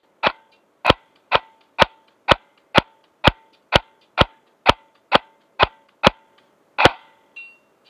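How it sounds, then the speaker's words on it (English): Double Eagle Honey Badger M904G airsoft gun firing in sharp, evenly spaced snapping shots, about a dozen in a row with a brief pause before the last, close and loud against silence. "Here's shooting it in full auto."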